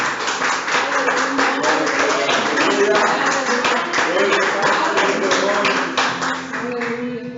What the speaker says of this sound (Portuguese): Aplauda o Senhor, né?